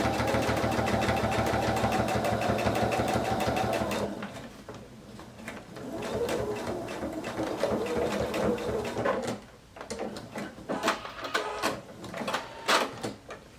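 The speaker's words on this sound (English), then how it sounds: "And now I'm ready to sew to that pin, stop, and take my fabric out from under the needle." Sewing machine stitching fabric up to a pin, a rapid rhythmic mechanical whir for about four seconds, then stopping, followed by clicks and rustles as the fabric is pulled from under the needle.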